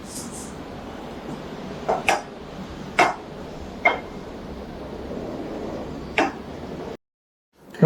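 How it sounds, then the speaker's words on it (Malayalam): Mustard seeds dropped into hot oil for a Karwari fish fry, giving a few sharp, distinct pops and crackles spread over several seconds above a steady low hiss, ending abruptly in silence. "കടുക് പൊട്ടി."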